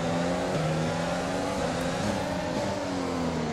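Formula 1 car engine in F1 2020, racing in heavy rain at Zandvoort, a loud continuous high drone with steady pitch, mixed with dense hiss from spray and rain.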